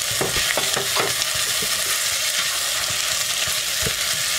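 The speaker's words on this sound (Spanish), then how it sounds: "Ahora echamos la carne molida." Ground beef goes into a pot for Peruvian sopa a la minuta and fries with a loud, constant sizzle, while several quick spoon scrapes and knocks from stirring come early and then a few more later.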